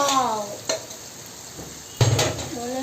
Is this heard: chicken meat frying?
yes